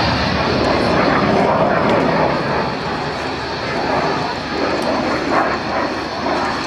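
A jet with a Rolls-Royce Avon engine flying at the East Fortune Airshow, a steady broad engine roar with a voice talking over it throughout.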